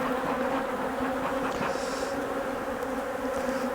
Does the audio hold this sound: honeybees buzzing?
yes